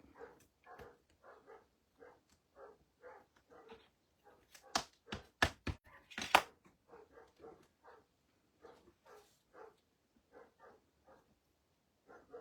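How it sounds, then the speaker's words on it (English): Dogs bark repeatedly in short, evenly spaced bursts, with a sharper, louder cluster of barks in the middle; fairly close, no talking. "sorry if you can hear my dogs"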